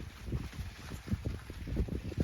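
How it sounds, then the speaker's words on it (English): Wind blowing through trees and a sweet corn patch in a late August garden, a steady whooshing rustle with low gusty buffeting, close and fairly loud, no speech. "I love that sound of the wind blowing through the trees, or through the corn."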